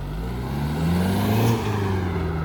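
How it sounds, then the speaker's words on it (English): A 2008 Mitsubishi Colt Ralliart with a turbocharged engine drives along, its steady engine drone rising briefly as the throttle is worked, with a short turbo blow-off hiss near the middle of the run. "Nice little turbo spew."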